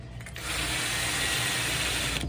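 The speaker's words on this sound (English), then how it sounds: "you can just use a larger drill bit" A power drill with a larger bit bores steadily into wood for a DIY swivel speaker mount, a loud, close, continuous whir that holds for about two seconds.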